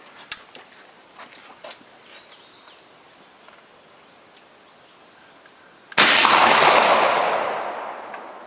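Single loud gunshot from a Kentucky flintlock-style muzzleloader rifle firing a patched .90 round ball with a percussion cap, ringing out outdoors after a quiet stretch with faint insects and birds, its report decaying over about two seconds.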